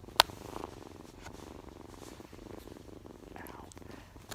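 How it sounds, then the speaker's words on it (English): A cat purrs steadily and softly up close, a continuous low rumble running the whole time after a brief sharp knock at the start. "Look at the kitty."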